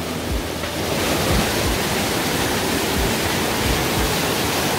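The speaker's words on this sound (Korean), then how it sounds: "여기가 거의 폭포네." A constant broadband roar of falling water fills the scene, loud and steady, like a waterfall nearby in a mountain valley stream at Gwangdeoksan, with no voices.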